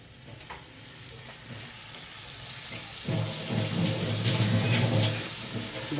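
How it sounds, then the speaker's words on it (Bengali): Water from a kitchen tap runs steadily beside a pan of frying vegetarian food with tomato sauce and spices. The flow is fairly close and grows louder partway through, mixed with a soft sizzle. "জলের শব্দ"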